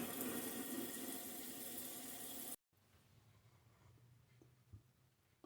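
Tap water running into a sink while dyed action figure clothes are rinsed, a loud steady rush for about two and a half seconds that cuts off abruptly, followed by quiet room tone with faint handling clicks.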